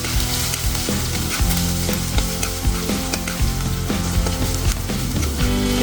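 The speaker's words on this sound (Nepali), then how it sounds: "यसलाई फ्राई गरिदिन्छु।" Mushrooms with turmeric fry in a pan, a loud, continuous close sizzle with repeated scraping strokes of a spoon stirring through them.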